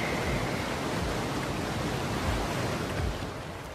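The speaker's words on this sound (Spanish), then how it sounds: "Nada puede evitar que el agua entre en tromba." Floodwater from Hurricane Sandy rushes in with a powerful current in New York, a loud, continuous broadband roar of churning water that barely eases before tapering slightly at the end.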